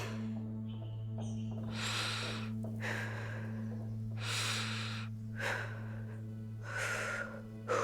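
A game character in The Walking Dead: The Final Season breathes in and out several times, slow audible inhales and exhales over a steady low electronic hum, close and fairly soft.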